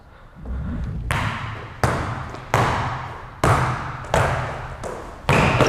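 A basketball dribbled between the legs thumps hard on the floor in a steady series of about seven loud, sharp bounces, each followed by a brief ringing decay, with no talk.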